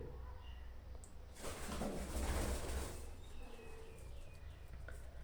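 Pigeons in a home loft of homer pigeons, where black and silver birds are nesting on eggs, coo softly in low murmurs, with a louder burst of rustling and fluttering in the middle, close by.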